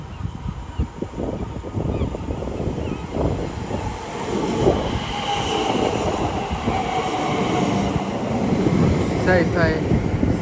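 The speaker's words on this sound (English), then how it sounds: "Soon to arriving now will be the 1213 London Northwestern Railway service from London Euston to Tring." A London Northwestern Railway train pulls into Watford Junction on the West Coast Main Line, its rumble and rail clatter building steadily beneath wind buffeting, with a station announcement voice over the noise.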